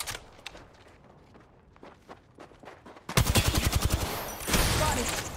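Automatic gunfire in the video game Apex Legends, a rapid loud burst of shots that suddenly breaks in after quieter footsteps and scattered shots.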